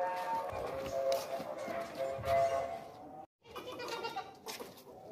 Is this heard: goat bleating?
yes